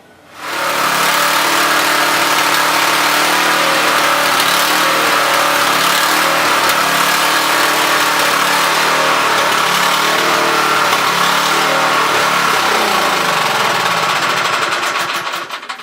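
Small engine of a Toro Power Clear or Craftsman snowblower running on a new $13 carburetor, starting up and holding a loud, steady buzzing roar close by for the whole stretch, no voices.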